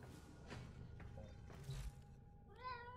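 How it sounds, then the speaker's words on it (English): A cat meows near the end, a clear rising call at close range, after soft shuffling and handling sounds. "That's one beautiful cat."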